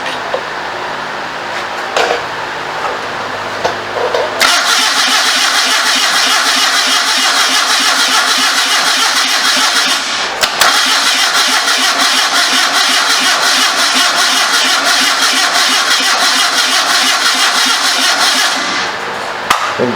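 A 1974 Datsun engine on a homemade motorcycle trike cranks over and catches on its first start, then runs loud and steady with a brief stumble midway before settling and cutting off near the end.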